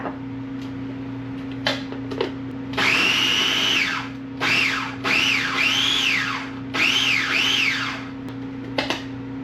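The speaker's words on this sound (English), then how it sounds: "We're just going to process this up so we get that kind of chopped up a little finer" A food processor whirs in several pulses while chopping garlic cloves with olive oil, each burst rising to a loud whine and winding down, separated by short pauses and a few clicks.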